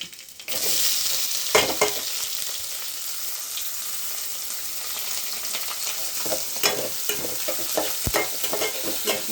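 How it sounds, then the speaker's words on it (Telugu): Onions and green chillies frying in oil in a pan, a steady bright sizzle with occasional stirring scrapes and clacks, close and continuous for the full length with no talking. "కొంచెం బాగా ఫ్రై చేసుకోవాలి లైట్గా."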